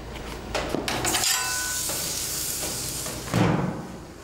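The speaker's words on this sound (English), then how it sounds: "We're gonna take it over the grill, which is super hot right now. We're gonna sear the outside of it" Beef tri tip searing on a very hot grill, a steady close sizzle that holds throughout with a brief louder burst near the end.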